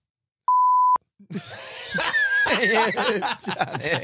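A single clean censor tone, about half a second long, cuts in abruptly, followed by people laughing and snickering.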